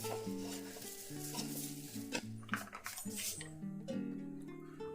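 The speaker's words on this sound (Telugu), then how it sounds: "నూనెని కొంచెం వేడి చేసి ఆవాలు, జీలకర్ర, మెంతులు పోపేసి" Mustard, cumin and fenugreek seeds are tempered in hot oil for a ginger-mango pickle, giving a soft sizzle and crackle with stirring and light clinks of a utensil against the pan, close and steady.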